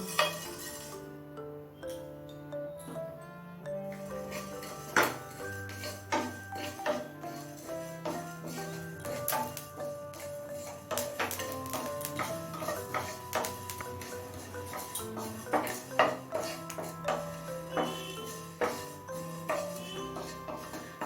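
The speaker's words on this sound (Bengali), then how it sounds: "সমস্ত মশলা একদম লো ফ্লেমে ড্রাই রোস্ট করে নেব" Whole spices and whole coriander, cumin and five-spice seeds dry roasting in a pan over low flame, with soft scraping stirs and scattered metallic clinks and taps over a faint background of music; no talking.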